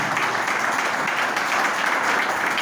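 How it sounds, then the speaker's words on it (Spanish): A church congregation applauding during a worship service, a continuous, even roar of many hands clapping at moderate volume. "¿Cuánto aplauden al Señor?"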